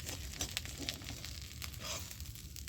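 Fish frying in mustard-oil style in a kadai pan, a faint steady sizzle with small crackling pops, close and alone without talk.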